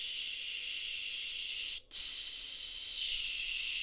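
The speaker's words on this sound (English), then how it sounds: "8-second exhale. Blow." A forceful, steady exhale blown out hard during a hypoxic breathing exercise, a loud breathy rush lasting several seconds, broken by one short pause before the blowing resumes at full strength.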